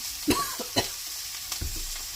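Anchovies and shishito peppers stir-fried in a pan, a steady close sizzle with a few sharp clatters of stirring utensils scattered through it.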